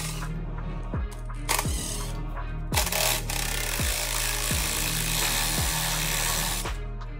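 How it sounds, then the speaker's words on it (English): Power tool whirring in short bursts while removing the four 4mm Allen bolts from a Talaria electric motorbike's factory controller, with regular clicks and ratcheting ticks, close and loud, no talking. "Now we're gonna remove the factory controller, which is held on by 4 4mm Allen bolts."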